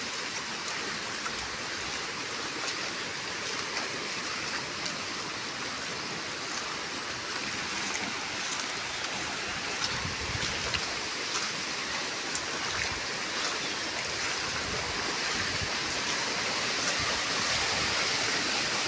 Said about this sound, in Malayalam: സൈഡിലൊരു തോട് കാണുന്നുണ്ട്